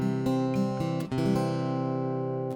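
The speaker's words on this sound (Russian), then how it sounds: "Кроме обычного пьезозвукоснимателя, вот, который звучит примерно так" A Baton Rouge AR31C electro-acoustic guitar played through its standard piezo pickup with a Baton Rouge preamp: a few plucked, ringing strummed chords with a bright, slightly electric tone, heard alone and up close.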